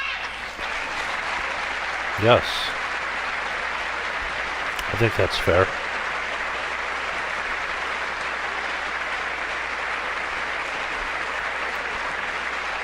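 Members of Congress applaud during the 2019 State of the Union address, a steady wash of clapping that runs the whole stretch while a voice briefly talks over it.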